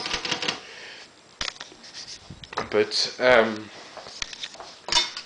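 A 1939 Imperial 50 desktop typewriter with missing tab stops clatters and clicks in irregular mechanical bursts, close up, alongside someone speaking.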